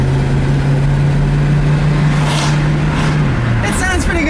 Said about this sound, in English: you can hear that little, you know, burble of the V8, and it sounds really good